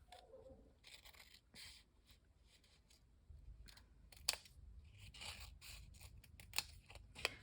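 Scissors snipping through dimensional foam adhesive strips for a handmade card, a quiet run of short crisp cuts with soft rustling and handling between snips, up close and alone.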